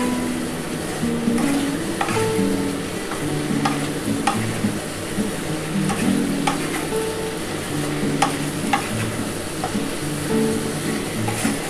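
Onions stir and sizzle lightly in a pan for a mutton stew, with a steady frying hiss and periodic clicks and scrapes of a utensil against the pot, close up and without speech.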